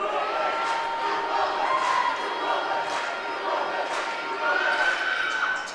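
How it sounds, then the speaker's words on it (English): Loud student-section crowd at a high school boys basketball pink out game, a steady wall of cheering and shouting with a ball bouncing underneath, sustained throughout with an announcer talking over it. "easily the biggest crowd of the season for the Mason students"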